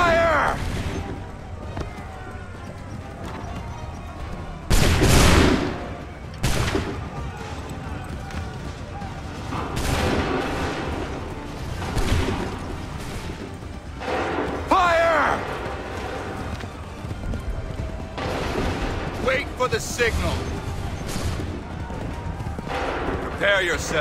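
Volleys of musket fire crack out in Assassin's Creed III, several loud, sharp bursts spread across a battlefield scene, with shouted commands and other voices talking between the shots.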